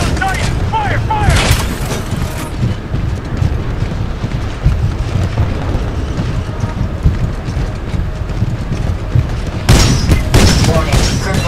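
Dense gunfire and explosions in a Titanfall Attrition match on the Forwardbase Kodai map, a loud continuous barrage with booming bursts near the start and end, alongside game voice announcements.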